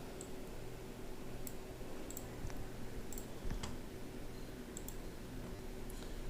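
Computer mouse clicks, a few sparse, light, crisp taps spaced irregularly over a quiet low background hum, with no talking.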